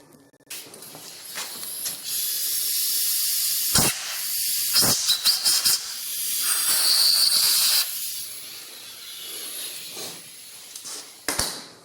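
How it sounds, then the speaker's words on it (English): Air hose blowing compressed air in a lathe workshop while a Hardinge Sjogren chuck is adapted, with loud hissing blasts of varying length, several sharp short bursts and longer sustained jets, close by and without talk. "Let me grab the air hose."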